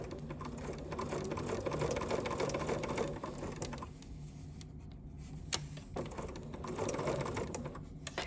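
A Bernina sewing machine with a #38 piping foot runs a basting stitch over skinny satin rat-tail piping, whirring steadily and close, easing off briefly midway before speeding up again.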